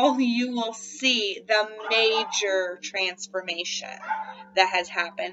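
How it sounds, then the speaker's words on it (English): Several pet dogs bark and yip indoors, sharp, fairly close bursts mixed in with and under a person's continuous talking. "They never bark, but then they start barking when I put the camera on."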